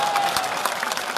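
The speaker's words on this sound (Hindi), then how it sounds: "मैं बड़े आदर के साथ आपकी तालियों के बीच इन्हें बुलाना चाहूंगा" Applause from a crowd at a political rally in Nawalgarh, steady dense clapping throughout with no voices over it.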